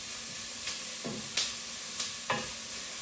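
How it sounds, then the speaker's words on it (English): Chili skins popping and blistering in a hot frying pan: a handful of sharp, separate pops spaced through a low, steady sizzle, fairly close and with no talking. "That's the sound of some of the skins blistering"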